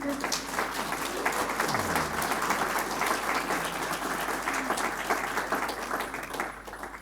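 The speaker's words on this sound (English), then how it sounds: "And if we can have a round of applause for all our" Round of applause from the audience at a support group meeting, sustained crowd clapping at moderate level, with a few voices faintly underneath.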